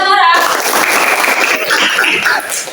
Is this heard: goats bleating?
no